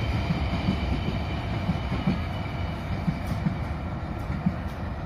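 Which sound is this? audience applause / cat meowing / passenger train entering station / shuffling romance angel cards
passenger train entering station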